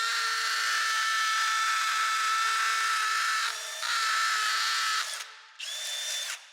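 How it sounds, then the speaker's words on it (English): A high-pitched power drill whines steadily for several seconds while drilling a wall for a TV mount, briefly dipping in pitch, then stops and starts again in a short final burst. "I'm drilling more in the center of the bracket"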